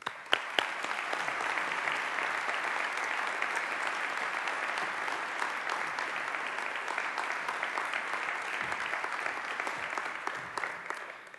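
A university audience claps steadily to welcome the president of West Virginia University to the stage, sustained dense applause from a large crowd, loud and even throughout with no talking over it.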